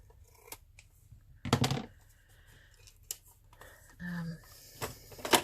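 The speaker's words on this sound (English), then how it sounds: "use my other scissors." Scissors snip through paper while embellishing a handmade ephemera coin holder, giving a few crisp, close cuts spaced a second or so apart against a quiet background with faint handling noise.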